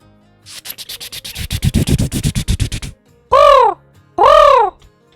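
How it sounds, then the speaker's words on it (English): A quick fluttering burst of rustling pulses, then two loud, clear crow caws, played as a short message notification tone with no talking. "time to hear the new crow mail sound"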